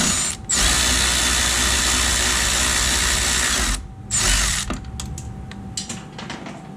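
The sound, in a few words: ratchet loosening bolt on Jeep 3.6L intake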